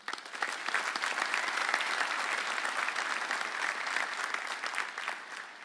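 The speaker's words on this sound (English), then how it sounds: "Let's give him a round of applause." Audience at a graduation ceremony claps in a dense, steady round of applause lasting the whole stretch, loud and even, tapering slightly at the end.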